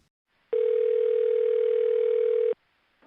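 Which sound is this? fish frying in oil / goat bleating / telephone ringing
telephone ringing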